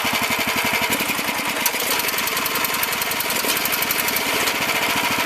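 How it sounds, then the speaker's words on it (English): A small engine runs rough, with a loud, uneven rapid chugging and rattling that stutters and lurches throughout, close up and without talk. "What does it mean if your engine does this?"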